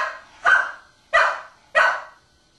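A dog gives three sharp, evenly spaced barks, each a loud close burst that decays quickly, with quiet gaps between.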